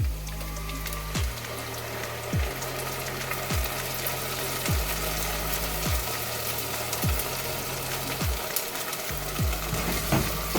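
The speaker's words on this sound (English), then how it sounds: "At this stage, I'm going to add the masala that I have grounded into a fine paste, the onion and the tomato masala." Ground onion and tomato masala paste frying in a pan for a brinjal curry while being stirred; a continuous sizzle with regular scraping strokes about once a second, close and steady, no voices.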